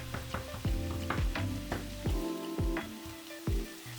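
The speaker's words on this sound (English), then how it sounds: "Then I just leave the ingredients to steam with the lid on, so they can lose their water more quickly" Gözleme filling of chopped vegetables steaming in a lidded pan, giving a steady close sizzle and hiss broken by rhythmic clinks and knocks of the lid or utensil, with no talking.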